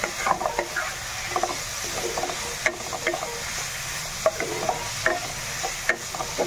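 Steady sizzling of food frying in a pan, with scattered crackles and pops and occasional stirring scrapes, close and moderately loud.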